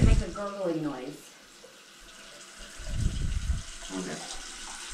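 Water runs from a tap into a clogged bathtub drain, a soft hiss and splash with gurgling swells, while people speak briefly at the start and again near the end.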